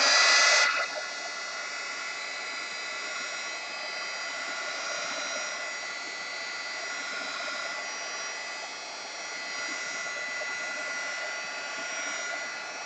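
A hair dryer blows steadily to dry puddles of watercolor paint in an art journal, a continuous loud whooshing hum with a brief louder start, heard alone.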